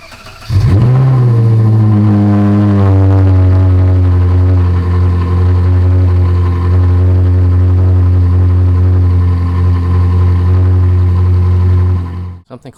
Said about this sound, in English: might as well do a cold startup with the S-Line exhaust installed